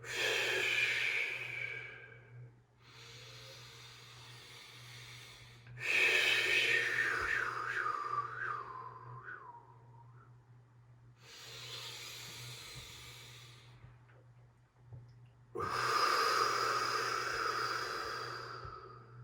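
Slow, deep breathing during a mountain yin yoga class, long audible inhales and exhales in several separate waves with short quiet pauses between them, close and soft.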